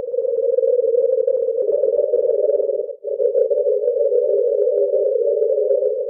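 A granular synthesis texture from a GSX synthesizer: a steady, dense drone of many tiny overlapping grains, with a brief dip in the middle before the grainy tone resumes at the same level.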